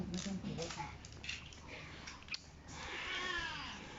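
A cat meows in a home during a birthday pizza gathering, a drawn-out call rising near the end, heard faintly under people chatting nearby.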